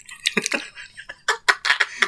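Cheeks shaken back and forth, giving a run of quick wet lapping and slapping smacks in an irregular rhythm, close up and fairly loud, with no speech.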